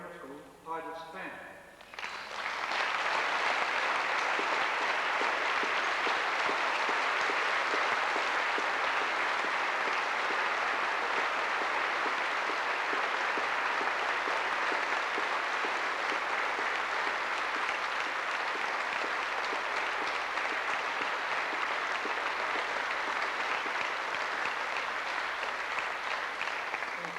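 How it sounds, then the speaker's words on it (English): Sustained audience applause at a 1986 grammar school prize-giving, a dense crowd of clapping hands that swells in after a brief moment and holds steady and loud for the rest of the clip. "Ladies and gentlemen, we should all stand and applaud the Ducks of MDA Grammar School, Titus Fan."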